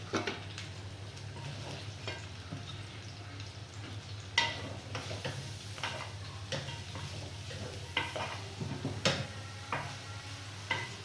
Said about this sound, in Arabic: وما بيتشوح شوية بالبصلة